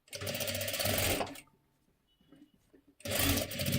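A sewing machine double-stitches folded fabric, running in two fast, steady bursts, one long and one shorter, separated by a quiet pause, with no one talking.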